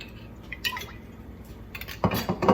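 Olive oil is poured into a pan at the start of a home-grown garden dinner, a short liquid trickle and drip with light clinks of cookware, close and moderately loud, no speech.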